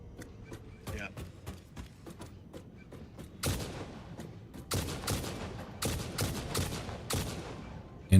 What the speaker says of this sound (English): it sounds more like an actual rifle now